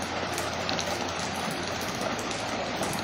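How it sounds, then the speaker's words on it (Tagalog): Continuous steady rain hissing on surfaces, an even dense patter with no pauses and no voices. "Maulan ngayon. Araw-araw umuulan."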